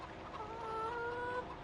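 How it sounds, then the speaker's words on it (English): Chickens cluck on a farm in Farming Simulator 17 for PS4, a steady soft run of clucks over a busy background hum of game ambience, fairly quiet throughout. "oh dear God, chickens"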